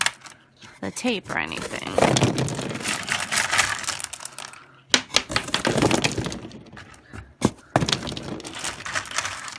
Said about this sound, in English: Let's add some rocks.